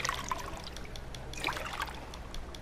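Water trickles and dribbles as bottles are filled in Fallout 4, with a couple of soft bubbly pours, close and quiet.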